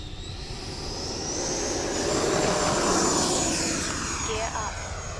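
An E-Flite 90mm Viper RC jet taking off down a runway, its electric ducted fan a loud rising whine that swells and peaks midway, then slowly eases, with people talking.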